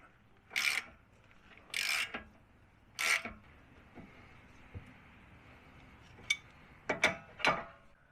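A ratchet works on the drag link nut of a Jeep JL Dana 44 front axle, with several bursts of close metallic clicking and some fainter scattered clicks and clanks.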